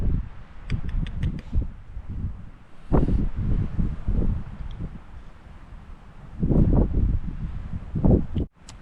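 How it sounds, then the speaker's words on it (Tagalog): Strong wind on a farm, loud gusty buffeting of the microphone coming in bursts with rustling between, rising and falling over several seconds. "Lakas nga ang hangin niya pero may araw naman"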